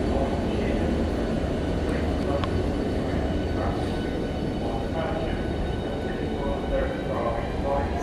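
A train passes through a railway station, a loud sustained rumble filling the whole stretch, with voices talking over it.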